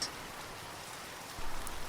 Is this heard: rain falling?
yes